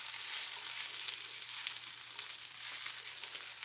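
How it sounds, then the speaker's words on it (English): Potatoes and onions fry in a pan with a steady, soft, continuous sizzle and crackle that holds evenly throughout, with no voices. "Warm those back up. Potatoes and onions."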